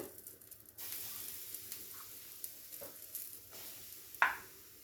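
Spices and turmeric powder are stirred in hot oil in a pan for a katla fish dish with mango paste, giving a soft steady sizzle with light scraping and one sharper clink near the end.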